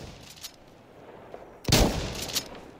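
A KSG shotgun in Insurgency Sandstorm fires a few sharp blasts, with a faint shot early on and a louder crack near the end that trails off into a short echoing tail.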